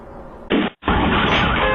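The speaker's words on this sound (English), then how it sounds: "The camera on the neighbor's garage captured the explosion" A house explosion caught on a neighbor's garage security camera hits as a sudden loud blast, cuts out for a split second, then gives way to a harsh, sustained roar of debris and distorted noise.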